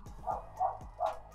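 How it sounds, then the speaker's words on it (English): Dog barking in three short, evenly spaced barks at moderate distance, with a low hum underneath. "And now there's a f***ing dog barking."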